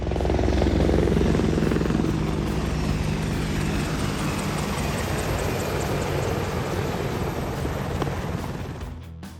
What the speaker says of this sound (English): The Apache helicopter is the primary attack helicopter of the U.S. Army.